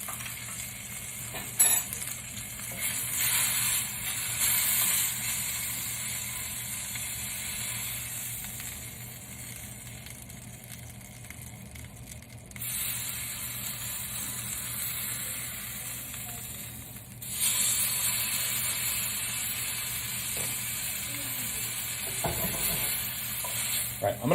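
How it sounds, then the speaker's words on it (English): Carrot ginger juice sizzling and cooking down in a hot pan beside a steak, a continuous bright hiss that swells and drops in level partway through, with faint clinks and no talk. "This is when I'm gonna add my carrot ginger juice and let that just start to cook down."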